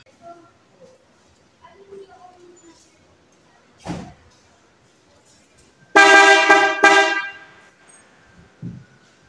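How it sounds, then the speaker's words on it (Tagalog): A Toyota Hilux horn honks in a loud burst lasting about a second, after a quieter thump, with faint background noise around it. "nakinig niya yung busina"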